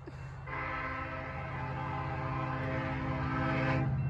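A northbound Union Pacific freight train led by EMD locomotive UP 1989 sounds a long, steady horn blast, moderately distant and growing slightly louder, with no talking.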